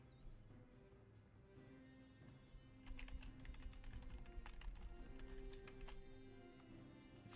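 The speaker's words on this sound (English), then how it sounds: "Hopefully the typing wasn't too loud." Very faint keystrokes on a computer keyboard during a Roman strategy game session, starting soft and then clattering in quicker bursts over a low background hum.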